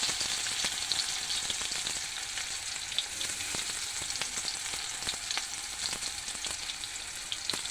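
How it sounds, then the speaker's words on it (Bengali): Finely chopped onion frying in oil in a pan with cumin seeds, giving a steady close sizzle with scattered crackles and pops throughout and no talking. "আমি পেঁয়াজটা দিয়ে দেবো, পেঁয়াজ কুচি। এই যে কুচি দিয়ে দিলাম।"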